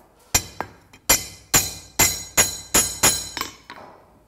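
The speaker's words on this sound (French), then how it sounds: "Donc là, on met des petites pointes de tungstène, c'est pour éviter qu'elles ne glissent sur l'asphalte." A farrier taps hard tungsten studs into a horseshoe with a hammer, about nine sharp metallic clinks at a steady, slightly uneven pace, close and ringing, with no talking.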